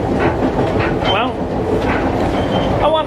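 Steady rumble and clatter fill the inside of a moving train car while a person talks over the noise throughout.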